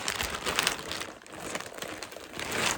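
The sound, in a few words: plastic bag crinkling while unpacking yarn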